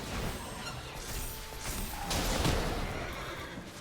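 Horse neigh in a Magic: The Gathering video game as a horse token is created, a loud whinny with some clattering hoofbeat-like clip-clop under a dense game sound wash.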